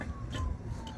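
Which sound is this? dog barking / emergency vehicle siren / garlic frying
emergency vehicle siren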